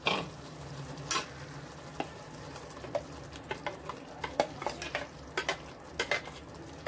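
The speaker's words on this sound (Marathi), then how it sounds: "आता ही आपण वाटप केलं होतं पालकचं, ते घालूया आपण" Spinach paste sizzles in a pan for palak paneer gravy while a spoon stirs and scrapes, with a soft steady frying hiss broken by repeated sharp clinks and taps.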